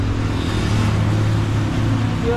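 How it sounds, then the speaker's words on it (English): Street traffic in Envigado, Colombia, rumbles close by at rush hour, a loud steady mix of car and motorbike engines passing without pause. "Look at the traffic, bro."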